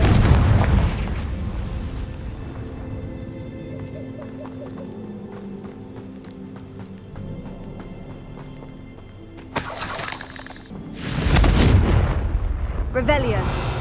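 Confringo blasting spell in Hogwarts Legacy, loud booming bursts at the start and two heavy explosions near the end, with quieter game ambience and a voice between them.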